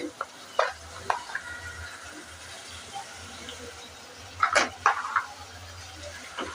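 Chicken being stirred in a pan with salt and ginger-garlic paste, for a Korean-style sweet and spicy chicken, gives a soft, steady frying hiss broken by a few scraping stirs that bunch together near the end.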